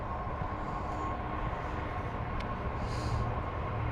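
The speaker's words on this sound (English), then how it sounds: "So you can hear a freight train." A steady low rumble of a freight train rolling by at a distance in Southall, London, continuous and even, with a faint metallic squeal partway through.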